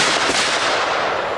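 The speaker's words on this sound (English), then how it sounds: "We'll shoot a couple of times double action here." Ruger revolver fired double action, a few loud, sharp blasts with heavy broadband crack and ringing decay, filling the short stretch with no voices.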